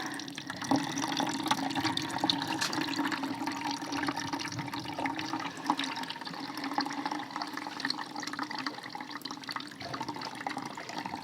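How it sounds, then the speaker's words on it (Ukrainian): Clear liquid draining from tomatoes for ketchup outdoors in a yard, a steady trickling and running water sound, continuous and fairly close with no talk. "Ось бачите, яка прозора тече водичка."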